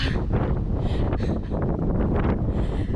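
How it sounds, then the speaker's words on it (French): Steady wind buffeting a microphone outdoors in Angra do Heroísmo, Azores, a continuous low rumbling roar with gusty swells throughout, loud and close, no voices. "le vent il arrive pile à ce moment quand je parle"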